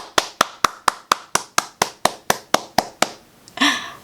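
One person claps about a dozen times at a steady, even pace, each clap sharp and close, before a brief vocal sound follows.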